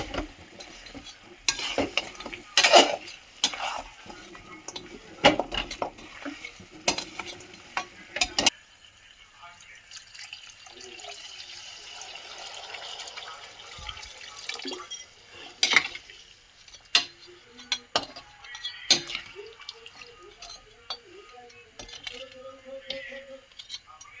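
Jaggery and water in a pan on the stove get stirred with a utensil, producing scattered scraping clinks and light sizzling, intermittent and fairly quiet, with pauses between strokes.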